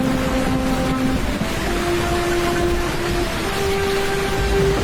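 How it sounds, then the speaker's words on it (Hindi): Heavy rain in a storm pours as a dense, steady wash of noise with a faint tonal drone underneath, loud and constant throughout with no talk. "अरे आज तो कितनी तेज बारिश हो रही है, जैसे आज के बाद कभी बारिश ही नहीं होगी।"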